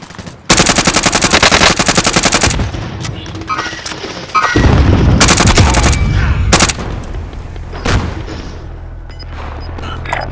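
Loud video game gunfire fills a battle royale match: long bursts of rapid automatic fire, a pause, then more heavy bursts and single shots from several directions, close and harsh, with no one talking over it.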